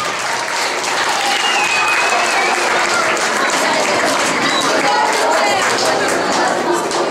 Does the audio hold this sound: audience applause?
yes